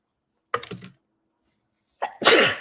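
A single close sneeze: a short sharp intake followed by a loud, breathy burst, after a brief pause of silence.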